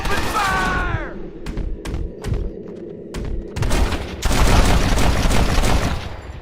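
Gunfire rattles in Red Dead Redemption: a voice at the start, then sharp spaced cracks of several shots, building into a heavier, denser volley of overlapping gunfire near the end.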